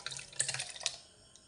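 Boiled mango with its cooking water is poured into a blender jug, a brief, faint splash and trickle that tapers off within a second.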